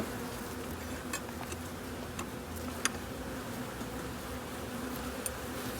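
Honey bees buzz steadily at an apiary, a dense continuous hum close by with a few faint clicks and ticks scattered through it.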